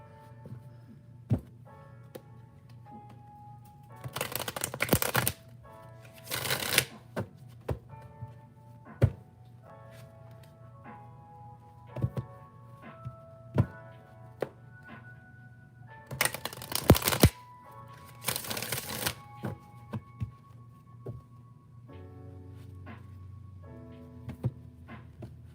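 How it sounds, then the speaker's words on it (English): A large deck of tarot cards being shuffled in several bursts of riffling, separated by soft taps, knocks and handling noises in a quiet room. "bear with me while I shuffle"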